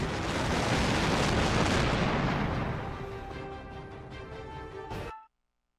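Heavy explosions and gunfire from the air-combat video game Tom Clancy's H.A.W.X 2 during an amphibious assault mission, a loud dense roar of blasts that fades away and cuts off abruptly near the end.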